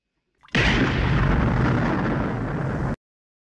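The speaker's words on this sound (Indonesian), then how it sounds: "Ned meledakkan bom agar tampak seolah-olah Edmund mati secara tidak sengaja" A bomb explodes in a film scene, a sudden loud blast that roars with a broad, sustained rumble for over two seconds, then cuts off abruptly.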